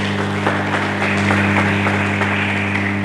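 A church congregation claps for Jesus during a sermon, a sustained patter of hands over a steady low electrical hum, with no voices rising above it.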